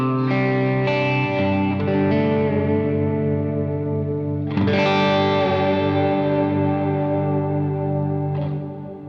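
An electric guitar run through a Lexicon 224 reverb plugin plays distorted chords and notes, each strike ringing out into a long, lush reverberant tail, with no voices.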